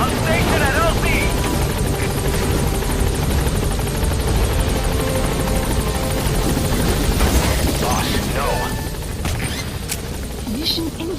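The Pequod helicopter from the video game Metal Gear Solid V arrives with loud, continuous rotor thumping and engine roar close by, with gunfire crackling in the mix and a radio voice speaking over it.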